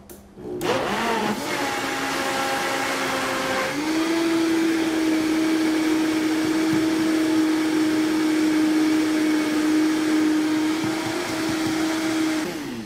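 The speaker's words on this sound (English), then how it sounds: "We're going to put it all in the mixer and let it go." A countertop blender mixing a smoothie starts with a sharp clunk and rising whir, then settles into a loud, steady motor whine with a sustained pitch that holds for the rest of the clip, close and alone.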